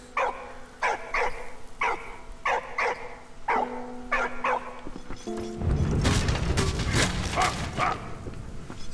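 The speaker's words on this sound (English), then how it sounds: "Thank you, good puppy." A dog barks in a steady run of sharp, repeated woofs in the video game Valiant Hearts, loud and close, then a heavy boom and rumble rise over the last few seconds.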